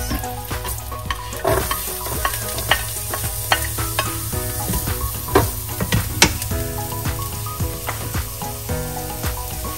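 Ground pork frying in a pan with crushed garlic and onion, a steady close sizzle broken by frequent sharp scrapes and clacks of a utensil stirring throughout.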